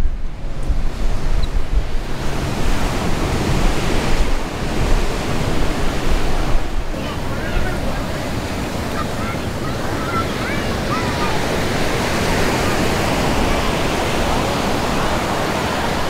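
Ocean waves breaking on the beach at San Clemente, California, a steady broad wash of surf with wind buffeting the microphone, louder and gustier in the first seconds before settling into a continuous roar.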